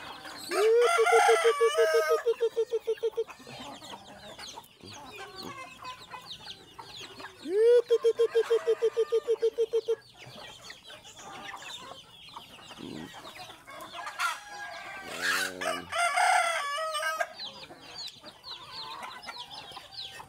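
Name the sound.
many chickens clucking and roosters crowing in backyard farm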